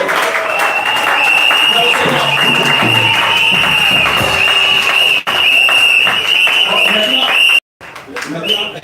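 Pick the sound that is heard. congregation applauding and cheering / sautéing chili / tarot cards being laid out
congregation applauding and cheering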